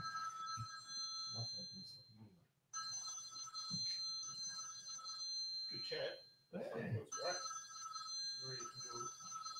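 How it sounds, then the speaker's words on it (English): A phone ringtone that sounds like an alarm plays as a steady, high, tonal electronic ring, cut off briefly twice and then resuming, with people talking over it. "It's a ringtone, it's an alarm, except that's your ringtone."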